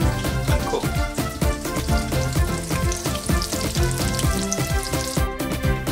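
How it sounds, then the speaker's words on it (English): Food frying lightly in a pan until golden, with a steady, close sizzle running through the whole stretch and a regular pulsing beat underneath. "You're just gonna lightly fry this about 3 to 4 minutes on each side until it's lovely golden"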